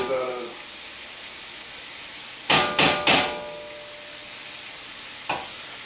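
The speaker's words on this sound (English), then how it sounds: "You want to scrape all this stuff out. You want to get all the goodies out of it." Tomato paste is scraped from a metal can while cooking chicken jambalaya, with three quick, loud metallic scrapes in a row and a fainter one a few seconds later over a low kitchen hiss.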